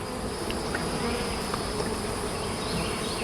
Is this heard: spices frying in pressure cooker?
no